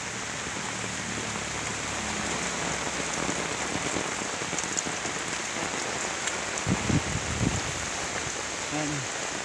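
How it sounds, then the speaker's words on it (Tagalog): Heavy rain pours down over flooded rice fields in a constant, dense patter, with a few dull low knocks near the end. "lalo pang lumakas ang ulan mga idol"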